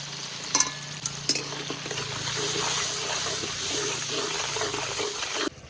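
A few clinks at first, then a steady hiss of rendered fish fat from a large silver carp frying in a pan, close and continuous until it cuts off near the end.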